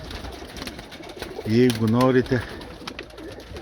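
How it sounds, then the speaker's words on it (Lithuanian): A pigeon in a breeder's loft, among female birds, gives a clear rolling coo that rises above quiet background, while someone speaks nearby. "Yra paukščiai, matot. Čia yra patelės."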